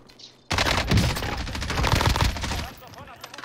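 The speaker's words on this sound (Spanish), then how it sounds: "Me están disparando al frente, venga." Dense, sustained gunfire in a Call of Duty Warzone battle, with M4A1-class rifle fire bursting in loud and close after a brief quiet moment and rattling on continuously for about three seconds.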